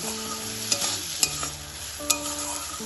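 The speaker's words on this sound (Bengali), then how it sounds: "সব কিছুকে তেলের সাথে ভালোভাবে কষিয়ে নিন মশলাটা যাতে তলায় লেগে না যায়" Spice paste for Bengali egg posto curry is stir-fried in oil in a pan, with a steady sizzle and a few sharp clinks of a spoon scraping the pan, close and clear.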